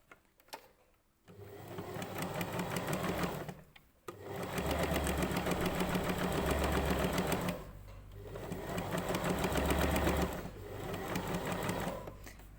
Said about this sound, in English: you're going to do another stitch line of gathering stitch.